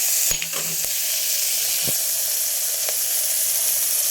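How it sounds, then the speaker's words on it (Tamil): Onion, tomato, chillies and boiled chickpeas sautéing in a pan for village-style chana masala, a steady close sizzle and hiss with a few sharp utensil taps against the pan. "இப்போ எல்லாத்தையும் போட்டு நல்லா வதக்கியாச்சு இப்போ வேக வச்ச சுண்டக்கலையை நம்ம சேர்த்துக்கலாம்"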